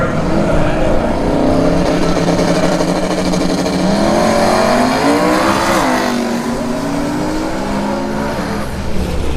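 A Ford Mustang drag racing car at a drag strip, its engine roaring loud and close with rising and falling revs through the run, the steady racing noise continuous and mostly free of talk.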